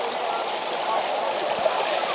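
Floodwater ten to twelve feet deep flowing through a submerged village, a steady broad rushing wash that stays even and fairly loud for the whole moment.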